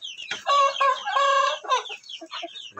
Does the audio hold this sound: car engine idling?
no